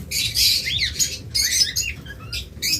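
Harsh, shrill squawking from lovebirds, several bursts in quick succession, close and loud, with no talking, recorded at night.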